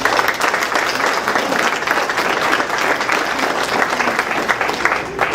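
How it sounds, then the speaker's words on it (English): Sustained, dense applause from a Tea Party rally audience in Owen County, clapping for volunteers, steady and loud throughout with no voices standing out. "Can you clap for them?"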